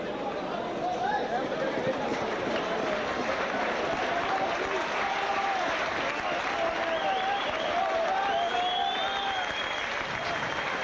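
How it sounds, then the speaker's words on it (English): Crowd applause at a rugby league match between St Helens and Oldham, a sustained wash of many hands clapping across the stands, steady and fairly distant, with a few voices rising above it. "Plenty of applause for Tony Kay"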